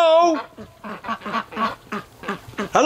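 Breeding ducks in a snowy garden quack in a busy, overlapping chorus of nasal calls, loud and close, with a harsher honking cry at the start and end.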